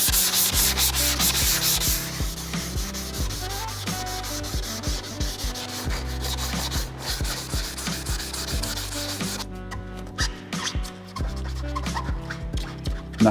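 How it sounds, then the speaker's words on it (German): A car wheel rim being sanded by hand with a sanding block before painting with 2K paint, with rapid back-and-forth scrubbing strokes that rasp in a steady close rhythm, easing slightly toward the end. "nehmt diesen Schleifblock und schleift damit die Oberfläche gut an"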